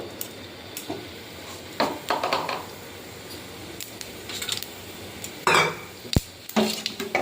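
Panch phoron is added to hot oil in a heated iron wok, giving scattered clinks and scrapes of metal utensils and short sizzling bursts, close by, with quiet gaps between them and no speech.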